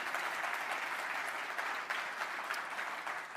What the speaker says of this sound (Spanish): Si le vale el aplauso, dáselo fuerte al Señor.